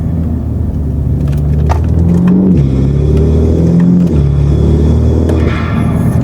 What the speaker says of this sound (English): The secondary diverter actually redirects all the intake sound outside the heavily insulated engine bay.